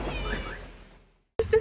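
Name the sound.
Persian cat meowing in Iran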